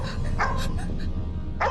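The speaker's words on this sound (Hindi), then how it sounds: "अब देखिए कुत्ते रात भर भूखेंगे।" Dogs bark a few times, close and loud, over a dense rumbling background in a crime drama scene.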